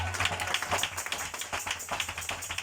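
A church congregation claps together during a sermon, a short burst of brisk, fairly even handclaps from a small group, close and unaccompanied by talk.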